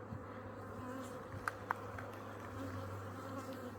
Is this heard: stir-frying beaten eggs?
no